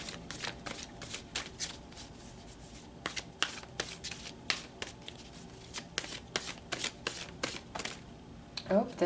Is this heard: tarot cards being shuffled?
yes